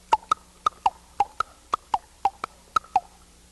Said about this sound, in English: So a horse walking down concrete might sound like this.